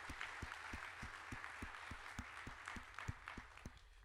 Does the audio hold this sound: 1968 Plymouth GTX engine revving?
no